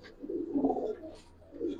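Giribaz pigeons coo indoors in a room: low, soft, rolling coos in a few close, moderately loud phrases with brief pauses between them, and no talking.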